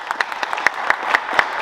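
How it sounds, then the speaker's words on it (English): A small group at a high school signing day claps in a brief burst of applause, irregular sharp claps close by, without speech. "Give him a hand clap for these times."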